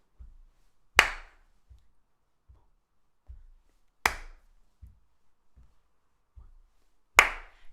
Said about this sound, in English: Clap on the 2